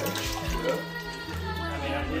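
Water runs steadily from a kitchen tap, a continuous rushing stream close by with a few low knocks.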